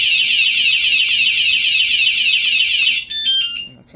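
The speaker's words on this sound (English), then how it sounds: "I set the alarm, so here you go." A Wsdcam 113dB wireless vibration-sensor bike alarm blares close up with a loud, steady high-pitched electronic siren tone, then switches to a quick warbling chirp pattern before stopping.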